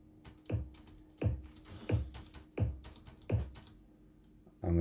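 Synthesized kick drum with a small click on its attack, made in Xfer Serum, struck five times at an even pace, short punchy thumps played quietly on their own.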